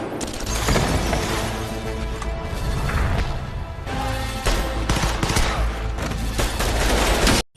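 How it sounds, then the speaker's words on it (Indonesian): A film gunfight at a gang hideout, with two sides trading fire in dense, continuous volleys of rapid gunshots and crashing impacts that stay loud throughout, then cut off abruptly at the end. "Terjadilah adu tembak di belah kedua pihak."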